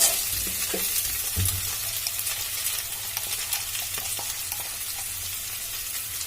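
Boiled taro and potatoes frying in a pan, with a steady close sizzle and a few soft stirring scrapes near the start, and no talking.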